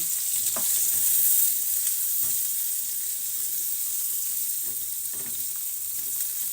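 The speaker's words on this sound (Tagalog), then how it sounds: "simulan na natin maggisa ng ating red onion, garlic, and ginger and chili" Red onion, garlic, ginger and chili sauté in a hot pan, giving a steady close sizzle with occasional soft stirring scrapes and no voices.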